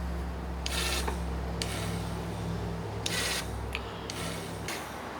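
A camera lens autofocus motor driving hard, giving repeated buzzing, rasping bursts of roughly half a second to a second, close up over a low steady hum, with no talking.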